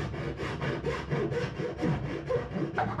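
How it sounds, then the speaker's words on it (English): A hand file rasps back and forth across cured epoxy on a homemade boat part, in quick, even strokes, close and steady. "so I'm gonna have to use a file."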